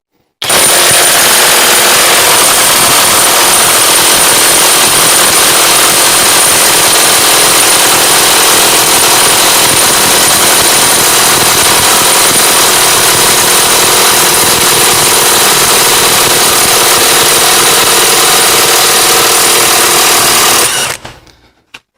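A KAMOLEE DTW700 cordless impact wrench loosens a nut, a loud continuous rapid hammering rattle lasting about twenty seconds before stopping abruptly, close up with no talking.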